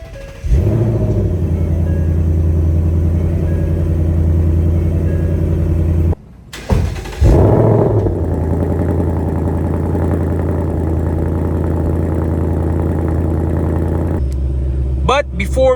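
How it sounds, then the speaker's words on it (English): A 2024 Ford Mustang GT with the 5.0 V8 starts up with a burst and settles into a steady, deep idle rumble close by, with a brief restart and a voice talking over it. "to start the engine, just put your foot on the brake and push the button to start"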